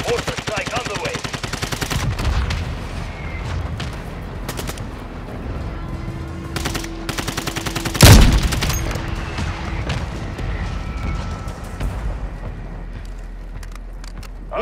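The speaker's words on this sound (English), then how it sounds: "Friendly mortar strike inbound!" Mortar strike explosions and rapid gunfire in Call of Duty: Modern Warfare II, dense bursts of shots throughout with one heavy, loud blast near the middle standing out above the steady crackle of combat.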